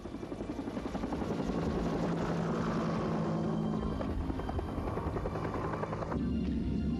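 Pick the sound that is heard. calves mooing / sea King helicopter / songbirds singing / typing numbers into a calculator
sea King helicopter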